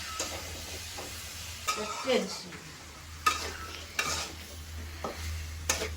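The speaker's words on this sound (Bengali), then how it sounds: "এখানে মাছের তরকারি রান্না করা হচ্ছে" Fish curry simmers and sizzles in a pan while a spoon stirs it, scraping and knocking against the metal in several distinct strokes, close by over a low, steady bubbling hiss.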